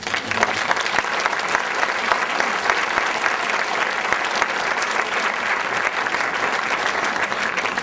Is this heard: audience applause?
yes